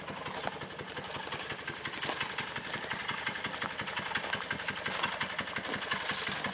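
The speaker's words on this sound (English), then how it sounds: "So we're just about to hook up our little work engine, which is a Terrier." A 7 1/4 inch scale Terrier work locomotive runs close by with a steady, fast, rhythmic chugging that holds evenly throughout, with no talking.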